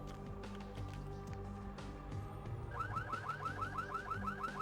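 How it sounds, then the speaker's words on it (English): Car horns honk repeatedly in the street ambience of the vampire role-playing game Vampire: The Masquerade - Bloodlines, a rhythmic series of short blaring tones rising over a steady background hum, like a car alarm cycling. "There's imaginary cars honking their horns"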